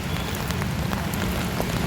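Rain pours steadily during an outdoor walk, a constant close hiss broken by scattered sharper drop ticks over a low rumble, with no one speaking.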